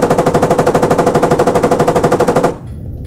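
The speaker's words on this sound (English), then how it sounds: "I gotta reload the MG." Rapid, steady machine-gun fire in a video game, a loud unbroken burst of evenly spaced shots lasting over two seconds, then cutting off abruptly to quieter background.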